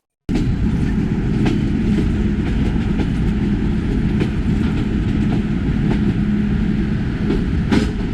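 Sundarban Express passenger train running on rails, a loud steady rumble and rattle of wagons throughout with faint rhythmic clacks, close and continuous with no talk.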